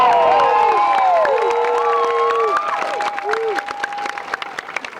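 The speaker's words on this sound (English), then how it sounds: "Give her a big round of applause, really appreciate that." Audience applause and cheering at the closing ceremony of the IQA World Cup Finals, a quidditch tournament, with claps and shouts from a crowd, including children's voices, over several seconds. Loud at first, then easing slightly.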